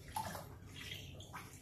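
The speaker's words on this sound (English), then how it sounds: "we're now going to dilute by adding 400 mils of water" About 400 ml of water pours into spirit in an Air Still, a brief splashing, sloshing pour close by that lasts a second or two with no talking.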